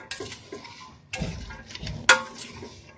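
Ingredients for a wheat salad with vegetables and herbes de Provence get mixed in a bowl, producing a few scattered clinks and soft scraping knocks of a utensil against the dish, fairly quiet, with one sharper clink near the end.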